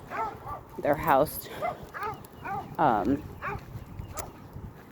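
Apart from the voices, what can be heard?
dogs barking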